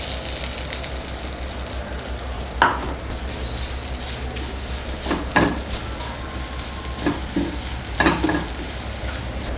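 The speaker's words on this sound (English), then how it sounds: "So I'm going to roast this. Let the pan get heated. 2 cups of grated coconuts." Grated coconut roasting in a heated pan, a low steady hiss under scattered scraping and tapping of a spatula against the pan, close by and without talk.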